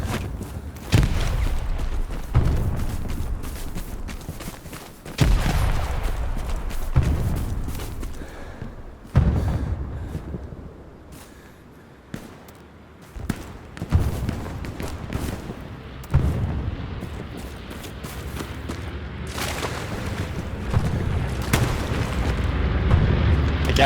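Repeated heavy grenade blasts from Hell Let Loose combat, a string of loud booming thuds every few seconds, some overlapping, with rumbling tails between hits and no talk over them.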